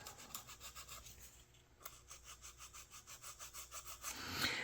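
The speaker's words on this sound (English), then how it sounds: "now we can take our sanding stick and we can start working our bevel." Rhythmic back-and-forth rasping of a sanding stick shaping a shallow bevel on a wooden model boat keel, even strokes repeating about twice a second, close and fairly quiet.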